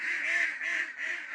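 Farm ducks kept as laying hens quack in a steady, continuous chorus, nasal calls rising and falling in three broad swells, fairly loud and close with no talk over them.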